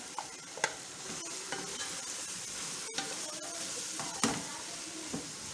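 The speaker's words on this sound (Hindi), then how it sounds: "थोड़ा सा इसको भून लेते हैं मटर को।" Peas and mashed potato fry in a pan with a continuous soft sizzle, broken by scattered scrapes and taps of a stirring spoon, close and steady, with no talk over it.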